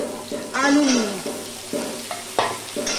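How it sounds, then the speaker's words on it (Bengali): Potatoes fry in a pan with half-browned garlic and onion, making a moderate sizzle broken by spoon scrapes and stirring. A voice talks over it. "আলুগুলো দিয়েও আমি ভালো করে ভেজে নেব।"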